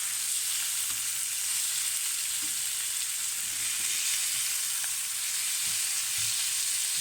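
Dibi meat sizzles steadily in a hot pan as the pieces are turned over, a dense, even frying hiss with faint scrapes and clicks of movement underneath, no talking.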